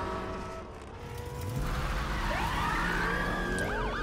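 Police car siren wailing in Need for Speed Unbound, its rising and falling tones sweeping in over steady engine and road rumble, loud and close by the end.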